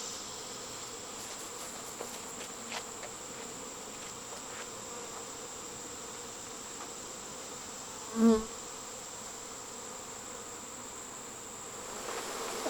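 A honeybee swarm in autumn gives a steady, soft buzz that holds throughout, with one brief louder thump partway through and no talking.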